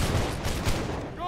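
A musket line fires a volley in the game Holdfast, a dense burst of overlapping shots crackling together over a moment with a voice talking under it.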